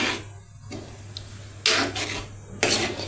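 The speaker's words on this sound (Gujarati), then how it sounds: "હવે તેને હલાવી લઈએ આ રીતે." Fenugreek seed curry stirred in a pan with a spoon, two short bursts of scraping and clinking against the metal over a low steady hum, close and fairly quiet.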